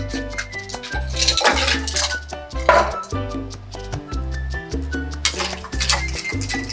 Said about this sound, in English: Now we're gonna give this a good stir.